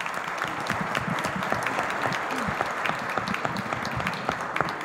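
An audience applauds steadily for an ecclesiastical tribunal at a course event, a dense, continuous patter of many hands at moderate distance with no voices over it.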